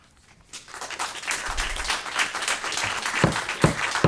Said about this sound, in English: I'm sure the applause was coming from the heart.